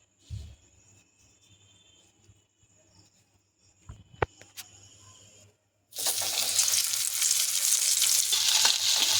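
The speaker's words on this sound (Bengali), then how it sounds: "তেলটা এবার গরম হয়ে গেছে। এবার মাছগুলোকে সুজি আর ময়দার কোট করে" Pomfret fish coated in semolina and flour drops into hot oil in a kadai and breaks into a loud, steady sizzle after a quiet stretch of faint clinks and handling noises.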